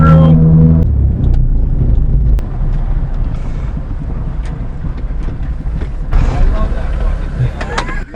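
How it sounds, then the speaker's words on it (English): Two heavy dump trucks rumble loudly past close by, their deep engine roar mixed with wind buffeting the microphone. "Look out, two big dump trucks coming through."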